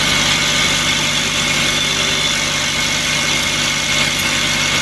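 An Ashok Leyland Dost truck engine left idling while its radiator and engine are being cleaned, a loud, steady mechanical drone with constant vibration and no voices.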